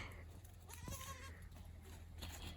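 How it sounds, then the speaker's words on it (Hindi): Goats out grazing give a clear bleat close by, with more bleating and low background murmur around it outdoors. "आप बकरियां चराने लेके आए हो?"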